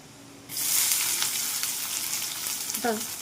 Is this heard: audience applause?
no